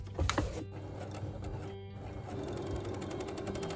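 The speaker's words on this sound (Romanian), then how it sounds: "O să fac o cusătură cu acul ăsta dublu" A sewing machine fitted with a twin needle runs a seam on French terry fabric near a dress collar, a brief bump at the start followed by a steady mechanical whir.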